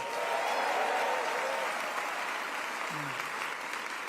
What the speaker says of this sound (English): Let's also give a round of applause for our protector, our Attorney General, Tish James.